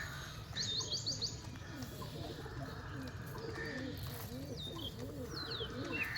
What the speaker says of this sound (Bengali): কবুতরটা নামবে।